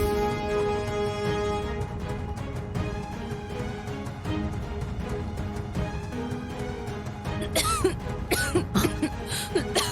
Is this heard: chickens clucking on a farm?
no